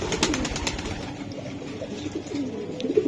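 Racing pigeons coo in low, repeated murmuring calls close by, with soft rustling and faint background noise between the coos.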